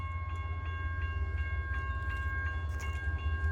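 CSX L234 freight train approaching a crossing in a neighborhood, a low continuous rumble with faint periodic clicks and steady crossing bell tones ringing above it.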